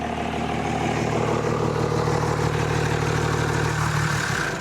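A Cummins diesel engine swapped into a Cadillac drones loud and steady under boost with a faulty collapsing air intake boot, a heavy continuous rumble with a slight surging texture, close by, that drops away at the end.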